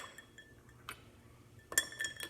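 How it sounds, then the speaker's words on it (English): Ice tossed into a cocktail glass, a few faint scattered clinks followed by a brighter cluster of clattering cubes near the end, quiet and close with no talk. "Toss some ice in there."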